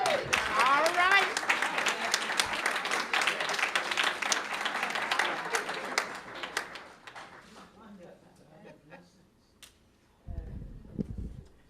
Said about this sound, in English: we have to give the bishop's baby girl a big round of applause